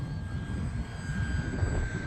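An E-flite Pitts 850mm RC airplane on a 4S battery flies overhead, its electric motor and propeller making a steady, even whine over a low rushing wind, moderately distant and alone without talk.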